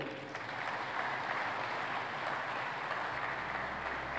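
A conference audience at the official opening ceremony of an African food systems event claps for a minister walking to the stage. The applause is dense and steady, continuing without pause for the whole stretch, with no talk.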